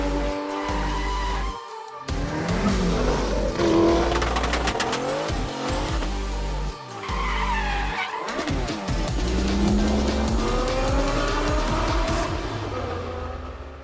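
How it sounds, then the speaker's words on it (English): A McLaren GT V8 supercar on the move, its engine note rising and falling through gear changes with brief gaps, loud and close, occasionally joined by tire squeal. "still have a growling V8 in the background when we want it"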